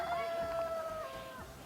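A single cat meow, a short drawn-out tonal cry that falls in pitch, heard quite faintly as the answer to a children's riddle about farm animals.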